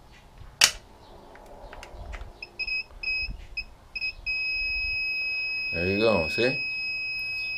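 An electrical continuity tester beeps while a neutral unbonding switch on a Briggs generator is being checked. It gives a few short beeps, then a sustained high tone, with someone talking briefly near the end.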